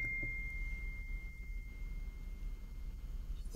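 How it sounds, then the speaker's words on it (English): A phone notification tone rings as a thin steady beep for about a second and a half over a low background hum, then fades, with no talk. "my phone is going off"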